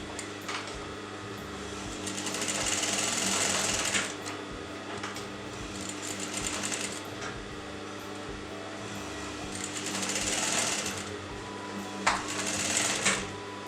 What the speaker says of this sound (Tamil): ஸோ ஒரு சைடு தைச்ச பிறகு அதே மாதிரி நம்ம கீழே இன்னொரு சைடு தைக்க போகிறோம் கீழே இருந்து மேலே